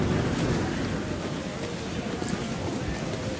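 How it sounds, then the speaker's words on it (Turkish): A steady, loud rush of strong wind and surging sea water roars continuously, broad and unbroken, in Assassin's Creed IV: Black Flag. "Rüzgar çok güçlü"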